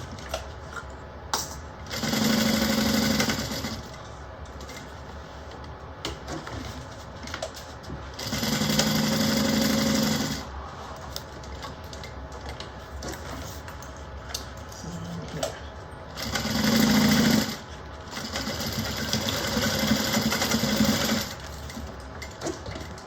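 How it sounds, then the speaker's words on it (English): A sewing machine stitches a bag lining shut in three loud, steady whirring bursts of a few seconds each, with quieter handling noise in the pauses between runs. "sew the lining shut"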